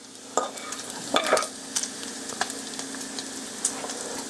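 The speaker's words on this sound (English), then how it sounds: "Mom's over here cooking that up for us." Bacon frying in a pan, a continuous crackling spatter with scattered louder pops and a few stirring clicks nearby.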